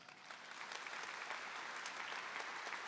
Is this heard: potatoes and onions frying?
no